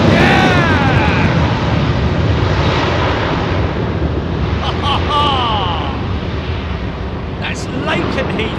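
Jet engines of a Singapore Airlines A380 at Heathrow roar loudly and continuously, a broad heavy rumble that stays strong throughout, with people's voices briefly breaking in over it.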